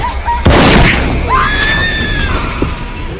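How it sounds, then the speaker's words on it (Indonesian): A gunshot fired at a psychopath in a hotel-set thriller film, a sharp loud burst followed by a ringing tail, with a faint voice and swelling tones in the mix after it. "setelah berhasil menembak psikopat itu, William pun langsung meminta bantuan ke pusat"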